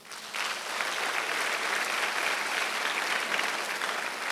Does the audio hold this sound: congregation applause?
yes